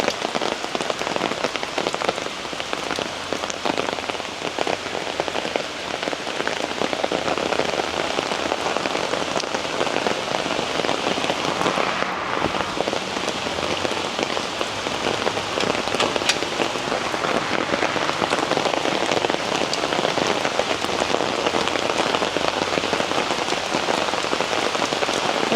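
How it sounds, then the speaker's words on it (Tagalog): Heavy monsoon rain pours down steadily during a typhoon in the habagat season, a dense, loud, unbroken hiss of drops drumming on surfaces for the whole stretch with no letup. "hindi na humuhupa yung ulan"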